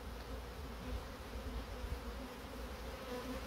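Honey bees swarm around an exposed nest during a hive removal, making a steady, dense, faint buzzing drone with no voices.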